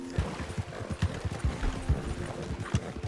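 Donkey hooves pounding at a run in the Red Dead Redemption 2 game: a steady series of dull, low thuds in quick rhythm across the whole stretch, fairly close and moderately loud, with no talking over them.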